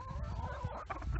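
Hens cluck close by, a quick run of short throaty calls over soft background noise.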